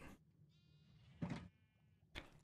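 A Minecraft sheep gives a single clear bleat between short bursts of game sound effects, close and moderately loud against a quiet background.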